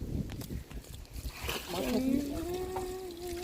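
Water pours and trickles with a splashing sound onto mango plants in a home garden, heard under a person talking nearby.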